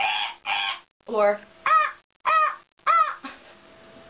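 A person imitates a goose honking: five or six loud, nasal honks in an uneven run, close to the listener, with a trailing drawn-out note at the end.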